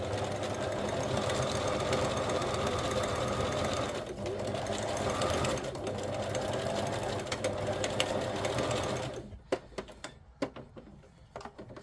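A sewing machine stitching fabric scraps runs in a steady, loud, whirring drone for several seconds, then stops, leaving a few scattered clicks and handling sounds, with some talk nearby.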